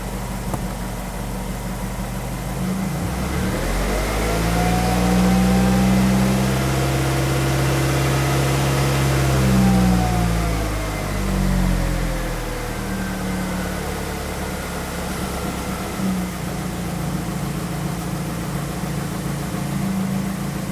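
A car engine with a P0171 lean fault idles steadily, then revs up for several seconds with a rising and falling tone before settling back to a steady idle.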